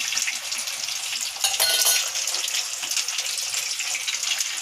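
Garlic fries in a pan for a spicy garlic chili powder dish, making a steady close sizzling hiss with a brief louder burst of crackle partway through and no talk.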